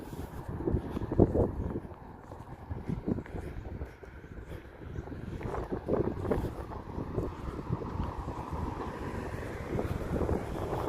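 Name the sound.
wind picking up suddenly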